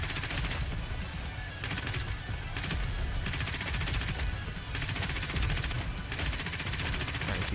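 Sustained rapid gunfire with someone shooting in all directions, dense automatic bursts filling the whole stretch with little pause, loud and close, and a faint voice occasionally underneath.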